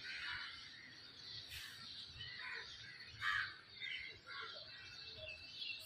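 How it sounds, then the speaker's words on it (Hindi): Birds calling in the early morning, with crows cawing and smaller birds chirping, repeated calls at moderate distance over a steady low background hum. "कोयल पक्षी सब गाते हैं"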